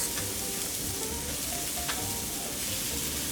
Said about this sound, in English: These are sweet Italian sausage.